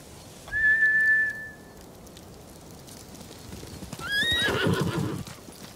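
A horse whinnies in a long, high call, then after a quiet stretch another horse neighs and snorts over close, clattering hooves. The scene is from the video game Ghost of Tsushima, with samurai mounts trained to return to their masters.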